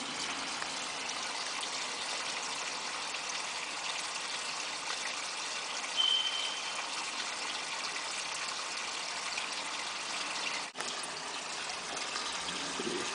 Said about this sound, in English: running water in different sections in the house to prove the integrity of the system